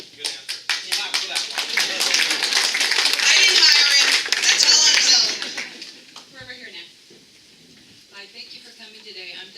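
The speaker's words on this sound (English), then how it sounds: "Clap for that one." An audience at a mayor's town hall in West Seattle breaks into brisk clapping that builds to a dense peak, then tapers off as a voice resumes speaking.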